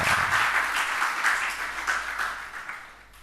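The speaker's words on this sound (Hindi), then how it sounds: "अब देखो ताली तो बहुत जम के बजाई।" Audience applause during a Jain religious sermon: dense, sustained clapping from a large crowd, steady and loud before thinning and fading toward the end, with no talking.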